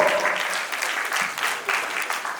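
Warm applause from a conference audience welcoming a panelist at a trading summit, a steady full burst of many hands clapping with slight swells, continuing for a couple of seconds without speech.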